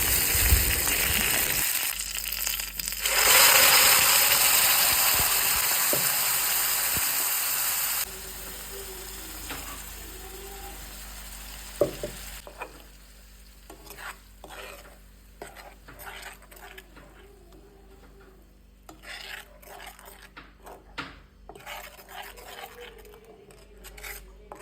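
Mustard seeds, curry leaves and ground paste hiss loudly in hot oil at first, then a spoon stirs and scrapes the pan steadily over a quieter sizzle.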